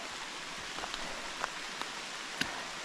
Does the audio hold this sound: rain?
yes